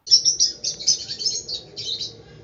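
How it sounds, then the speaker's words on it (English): A lovebird, kept as a small apartment pet bird, gives a run of bright, high chirps and tweets in quick succession, close and fairly loud, with no talking over it. "The first bird that I chose as a good apartment bird is none other than the lovebird."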